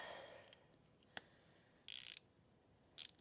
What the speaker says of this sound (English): So we're going to resort to the ratchet.